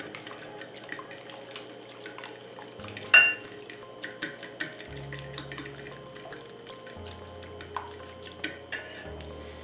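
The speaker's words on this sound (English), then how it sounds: "Mix that together." Cajun seasoning and Old Bay being mixed into ingredients in a bowl: close scraping and clinking of a utensil against the dish, with one sharper knock and small irregular taps over a faint low hum.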